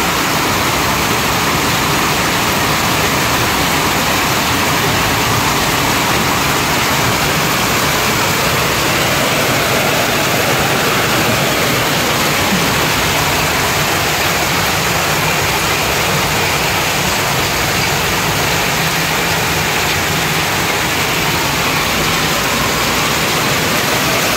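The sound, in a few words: heavy rain pouring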